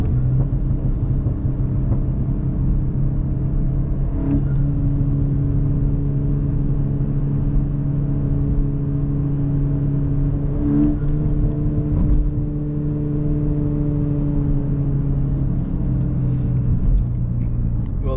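The engine of an EQT Stage 1 tuned VW Mk8 GTI drones at a steady low pitch from inside the car, with slight shifts in revs over a continuous rumble.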